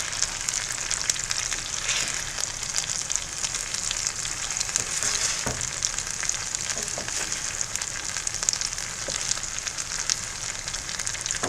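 Food sizzles and fries steadily in a hot pan while moco loco is being cooked, a dense, continuous crackle that stays close and even throughout, with one brief thump partway through and no talking.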